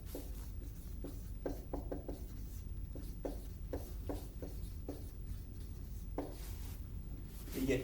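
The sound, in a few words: writing big on a board for students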